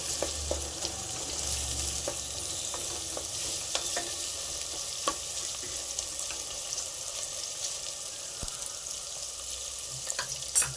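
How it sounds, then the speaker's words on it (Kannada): Onions sizzle and fry steadily in a pan for egg pulao, a continuous close crackle with occasional stirring clicks and no talking. "ಈರುಳ್ಳಿ ಫ್ರೈ ಆಗೋಕ್ಕೋಸ್ಕರ ಬೇಗ ಫ್ರೈ ಆಗುತ್ತೆ"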